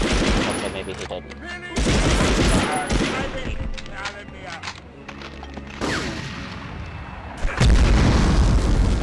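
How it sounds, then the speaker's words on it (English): Gunfire and explosions from the World War II shooter game Medal of Honor: dense bursts of automatic fire and heavy booms rattle through the whole stretch, with a voice speaking over parts of the action. "I'm really glad I didn't get caught in that explosion"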